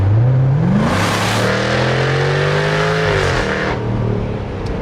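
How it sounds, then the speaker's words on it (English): A Jaguar F-Type R engine roars at full throttle from inside the cabin, its pitch rising through a gear, dipping at a shift, then climbing again in a loud, continuous snarl. "still makes a pretty good noise at full throttle"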